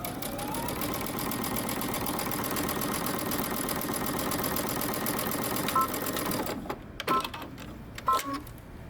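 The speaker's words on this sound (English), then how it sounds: "Now we're going to sew across our shoulders using 5/8 of an inch seam allowance" Sewing machine running a steady continuous stitch along a knit top shoulder seam at 5/8 inch seam allowance, close and even for most of the clip, then stopping into a few short clicks and handling noises.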